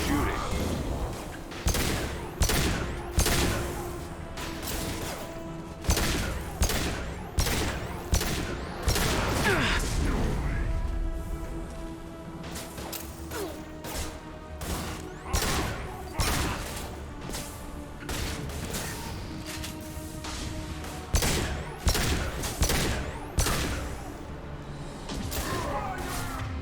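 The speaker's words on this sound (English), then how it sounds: "Nice shooting." Sci-fi gunfire from the Mass Effect 2 video game comes in repeated sharp bursts of shots, with crashes, booms and whooshing effects between volleys and some voices in the mix.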